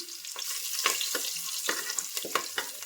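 Curry leaves, crushed garlic and a pinch of turmeric sizzle in hot oil for a Mangalore-style basale greens sambar: a steady frying hiss with sharp crackling pops throughout, close and moderately loud, with no voices.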